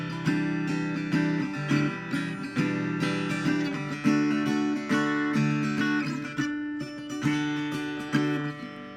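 An acoustic guitar plays the chord part of a song, alone and clear, with strummed chords struck in a steady repeating rhythm, each ringing out and decaying before the next strum.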